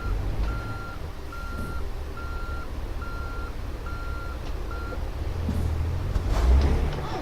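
A truck reversing in a disaster-management video game, its backup alarm giving about seven evenly spaced beeps over a low engine rumble, with a few bumps and knocks near the end.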